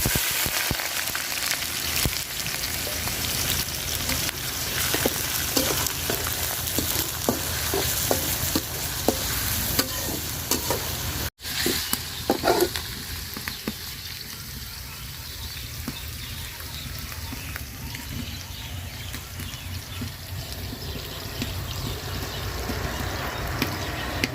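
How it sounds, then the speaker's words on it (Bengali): Onions fry in a pan with cardamom, cinnamon and bay leaf, crackling and sizzling loudly and continuously up close while being stirred with frequent light scraping clicks, a brief dropout midway, and no talking. "পেঁয়াজটা বাজা বাজা করে নিচ্ছি"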